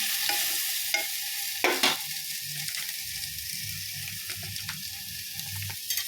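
A spoon stirring turmeric powder into a dish in a frying pan, with soft sizzling underneath and several sharp scrapes and clinks of the utensil against the pan; close and fairly quiet, with no talking.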